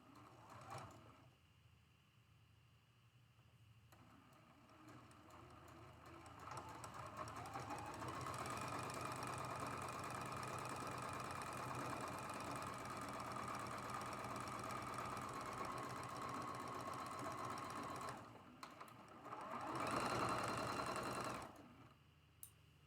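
A sewing machine runs steadily for about twelve seconds, stitching a quilt block seam for an hourglass pattern, with a whirring mechanical drone that starts up, holds an even pace, then stops, followed by a brief louder burst.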